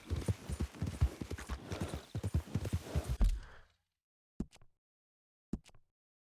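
Horse hooves clip-clop in a rapid, close rhythm in the Red Dead Redemption 2 video game, then cut off, leaving two isolated single hoof knocks in near silence.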